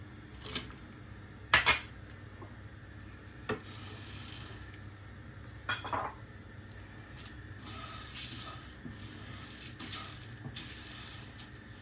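Garam masala spices dry roasting in a pan over a very low flame, with a utensil scraping and clinking against the metal in scattered sharp knocks over a soft, steady background.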